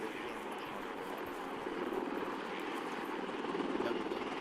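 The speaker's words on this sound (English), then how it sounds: "Chopper's coming in a little too high." A video game helicopter approaching, a steady droning rotor and engine roar that grows slightly louder toward the end, with faint background voices under it.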